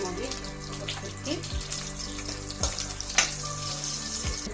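Chopped green chillies fry in oil in a village kitchen, a close steady sizzle with occasional clatters and spoon knocks, over a continuous low hum.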